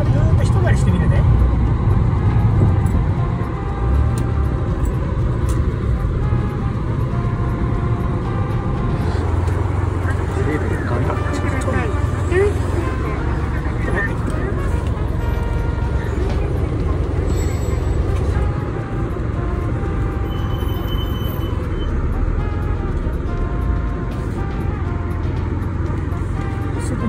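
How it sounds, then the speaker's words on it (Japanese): A car drives around Zushi Marina, with steady engine and road rumble continuing for the whole stretch and a voice talking over it. "風景がいいから車でずっと一回りしてみるね。"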